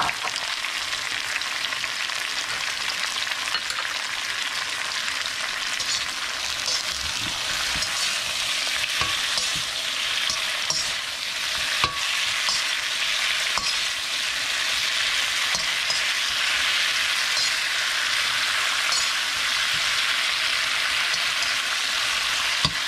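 Shrimp sautéing in a hot pan, a steady dense sizzle running unbroken and close for the whole stretch, with no voices over it.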